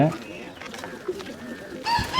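A white pigeon, offered as a pet for sale, gives soft low cooing close by, while someone talks over it and other birds chirp faintly in the background.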